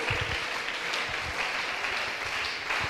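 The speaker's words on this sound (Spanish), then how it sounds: "Dele ese aplauso al Señor Jesús, hermano." Church congregation applauding during a worship service, a dense sustained clapping from many hands with no one speaking.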